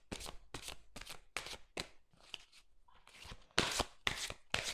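A tarot deck is shuffled and three cards are drawn, giving loud, close bursts of riffling and slapping card noise in an uneven rhythm, with no speech.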